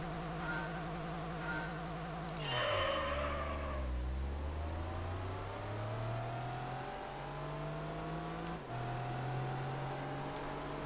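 A Viper's V10 engine in the Gran Turismo 3 racing game revs and climbs through gears, with falling pitch at each shift and a sharp drop then steady climb, loud and continuous with no talking.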